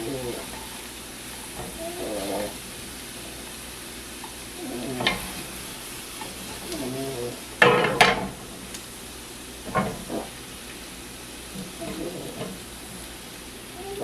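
Onion sizzles and fries in a pan for a green bean casserole, a soft steady hiss under intermittent stirring scrapes, with a person talking over it.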